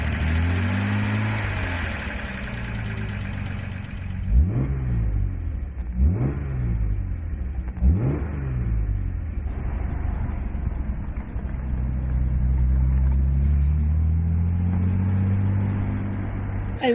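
A Jaguar XKE convertible's engine idles steadily, then is blipped in three sharp revs a couple of seconds apart before settling into a sustained, louder hum, close by with no voices.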